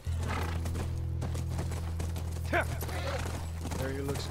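Horse hooves clip-clopping near a ranch in the video game The Last of Us, with a low game drone underneath and a sharp neigh rising partway through, then faint voices talking.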